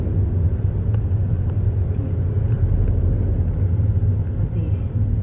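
Inside a car driving on a multi-lane California highway in traffic, a steady low road rumble and engine drone fill the cabin without a break.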